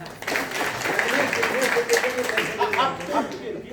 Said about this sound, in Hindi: तो एक बार इनके लिए जोरदार ताली।